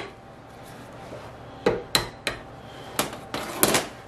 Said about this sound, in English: I'm just taking this Woodruff key off of here because I've got to get that washer off so I can get the new seal in.